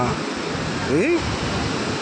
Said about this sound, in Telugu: ఇక్కడ నుంచి వాటర్ కిందకి పోతూ ఉన్నది